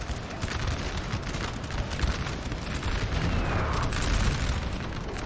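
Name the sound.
artillery fire hitting French line, Napoleon Total War video game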